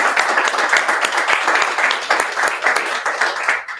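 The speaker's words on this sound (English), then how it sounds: "Please clap and give yourself a nice round of applause." A live crowd gathered at Cocoa Beach for a Celestis launch broadcast gives a loud, dense round of applause, sustained clapping with a few whoops, close and full before cutting off at the end.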